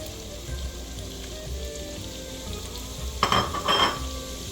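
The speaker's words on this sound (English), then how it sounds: "next we're gonna add all our onion" Chopped onion hits a pan for bucatini all'amatriciana and fries with a soft, steady sizzle, with a louder crackling burst and stirring about three seconds in.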